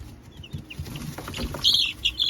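Meat chickens in a chicken tractor on a homestead cluck and chirp softly at close range, with a few sharper high calls near the end over a low rustling background.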